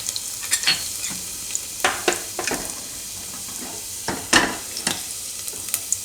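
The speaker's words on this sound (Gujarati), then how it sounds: "તો તેલ આપણું ગરમ થઈ ગયું છે. એમાં નાખીશું પહેલાં આપણે આ લસણ." Garlic dropped into hot oil for a Gujarati sai bhaji recipe, frying with a steady sizzle and punctuated by several sharp stirring scrapes in the pan.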